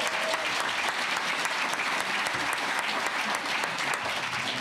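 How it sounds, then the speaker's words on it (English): An audience at a presentation breaks into a huge cheer and round of applause, a dense, steady wash of clapping from many hands that runs throughout at even loudness. "a huge cheer and round of applause"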